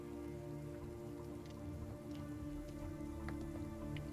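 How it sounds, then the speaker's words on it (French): Heavy, steady downpour pattering continuously as background ambience in a French tabletop role-playing horror session, faint and even with scattered droplet ticks and no voices. "Il pleut toujours, hein, il pleut à verse."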